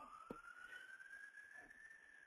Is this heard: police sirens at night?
yes